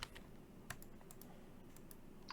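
Keys on a computer keyboard are tapped in a handful of quiet, scattered clicks spread irregularly across a low background hiss.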